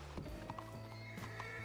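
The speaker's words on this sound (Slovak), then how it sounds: "Hento je krásny kôň, ale príliš extrémne obrovský kôň je hento." A very large horse clip-clops on hard ground, the hoofbeats close but somewhat buried in a dense, noisy background.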